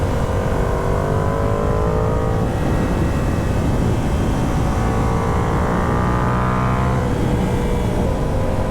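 A Yamaha R7 twin-cylinder motorcycle engine held at full throttle, a steady loud roar with rising harmonic pitch as the bike accelerates, plus wind rush, no talking.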